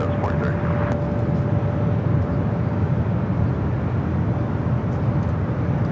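Viva Aerobus Airbus A321neo rolling down runway 24 left at LAX on its takeoff roll to Monterrey, a steady broad jet roar held at constant loudness throughout, with a faint voice over it.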